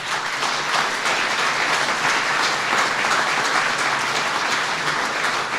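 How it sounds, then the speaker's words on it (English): Sustained audience applause for a veteran at an Honor Flight event hosted by the Vice President, a dense, steady wash of many hands clapping at even loudness throughout. "Let's give him a big round of applause."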